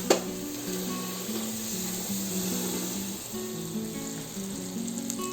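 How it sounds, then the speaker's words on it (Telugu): Butter sizzles steadily in a hot pan as the base for Andhra-style country chicken biryani, a close, even frying hiss with light stirring scrapes and no voices. "సో ఇక్కడ నేను కొద్దిగా బటర్ యాడ్ చేస్తున్నాను."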